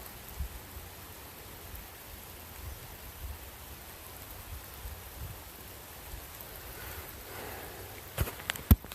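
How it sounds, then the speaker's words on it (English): Steady rain falls outdoors as a soft, even hiss, faint and continuous, with a few sharper knocks near the end. "And I knew it was going to rain."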